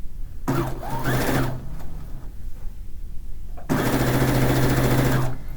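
A sewing machine stitching a fish-pattern quilt runs in two loud, steady bursts, the first about a second long and the second longer, separated by a quieter pause.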